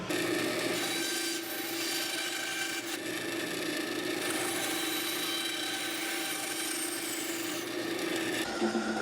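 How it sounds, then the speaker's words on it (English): A bandsaw cutting a wooden guitar body piece gives a steady, close rasping whine over the motor's hum, fairly even throughout and ending in a brief clatter. "So now we'll cut this out on the bandsaw."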